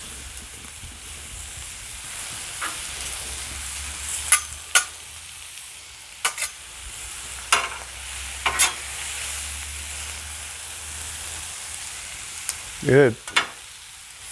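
Chicken and vegetables sizzle steadily on an outdoor griddle, a constant frying hiss broken by sharp metallic spatula scrapes and clacks as the food is tossed; a voice speaks a single word briefly.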